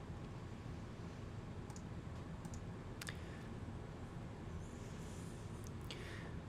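A few faint, sharp computer mouse clicks spaced out over a quiet hiss of room noise, with no voices.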